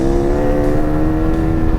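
A BMW R nineT Paris Dakar motorcycle engine runs steadily on a dirt road, its low throbbing note close and loud with a constant even hum for the full stretch.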